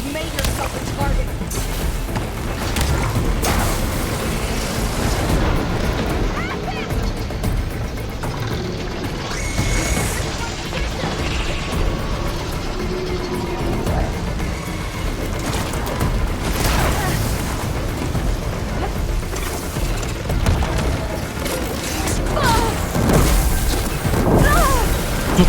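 Rapid bursts of gunfire and booming explosions keep going throughout, dense and loud, as enemies shoot at the player in Horizon Forbidden West, with occasional voices mixed in.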